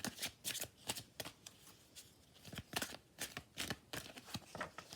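Oracle cards are shuffled by hand for a tarot reading, giving repeated quick, crisp riffling bursts in an irregular rhythm, close and fairly quiet, with no talking.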